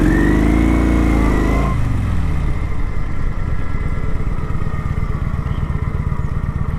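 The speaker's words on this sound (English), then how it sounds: "All right, so I skidded." A motorcycle brakes hard from about 20 mph during emergency braking practice, the engine winding down sharply, then a rough, rumbling rear-tire skid with loud close engine noise and no talk.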